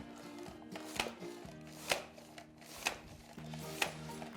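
Vegetables sliced on a mandoline with the blade set to an even thickness for a vegetable lasagna, four sharp, evenly spaced slicing strokes about a second apart, close and clear over a quiet background.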